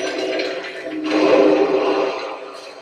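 Rushing waterfall in the video game Tomb Raider: a steady, loud wash of falling water that swells midway and holds for several seconds with no voices.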